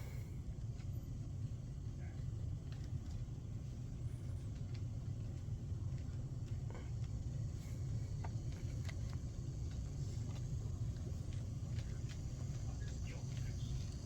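A GP50 model train locomotive in BN tiger stripe livery pulls a string of coupled cars, giving a steady low motor rumble and faint rolling hum that runs continuously and evenly throughout.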